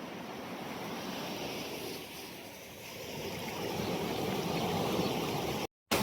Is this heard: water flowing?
yes